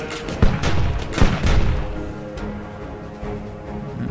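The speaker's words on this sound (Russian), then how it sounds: "Сейчас слева с двух пушек убьем ее." Cannons firing in the Steampunk Tower 2 tower-defense game: a few sharp booming shots in the first second and a half, each with a rumbling tail, followed by a quieter, lingering rumble and a fainter later blast.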